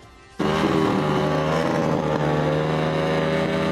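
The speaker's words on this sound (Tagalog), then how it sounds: "sinalubong ng ilang mga residente ang bagong taon sa pamamagitan ng pagpapaandar sa kanilang mga motor at pagbubusina" Motorcycle engines roar and rev loudly to greet the New Year in Dinagat, starting abruptly after a brief quiet and holding as a dense, sustained drone; steady tonal layers suggest horns blaring along with the engines.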